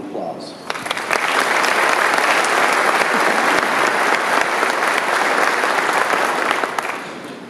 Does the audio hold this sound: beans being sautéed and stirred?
no